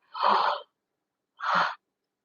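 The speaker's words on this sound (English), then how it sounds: "I get out half a yawn." Two short breathy exhalations a second apart, a person yawning softly and close, with silence between them.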